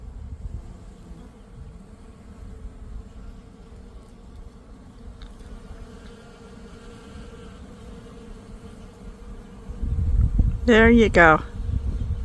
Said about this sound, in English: Honeybees, these ladies are hard at work pollinating all the flowers on my Nanking cherry.